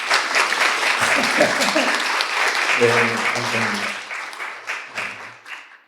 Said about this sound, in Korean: 우리 어머님들 박수 한번 해드립시다.